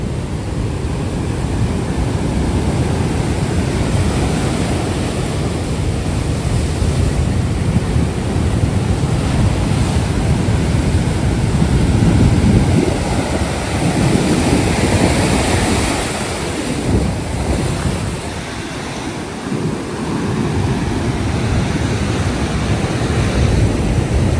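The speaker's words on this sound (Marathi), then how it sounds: "समुद्र किती खवळलेला आहे बघा" Rough monsoon sea at the Ganpatipule beach by the Ganpati temple roars with steady crashing surf and gusting wind noise, loud and continuous throughout.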